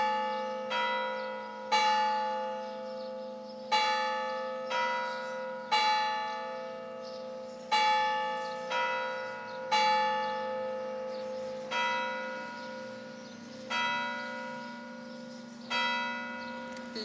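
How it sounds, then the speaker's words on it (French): A church-style bell rings outdoors in nine slow, evenly spaced strikes, each clear resonant tone ringing out and fading before the next, fairly near and alone. "La cloche sonne."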